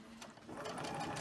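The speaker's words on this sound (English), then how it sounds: "If you have electronic computerized sewing machine," Electronic computerized sewing machine stitching fabric, a fast, even mechanical whir that starts up and runs steadily for just over a second, heard up close with no talk.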